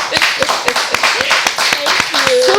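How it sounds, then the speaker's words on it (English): An audience at a talk show claps for a guest, a run of quick, uneven claps from a small crowd, close and fairly loud, with people talking over the clapping. "Clap it up for her, you guys."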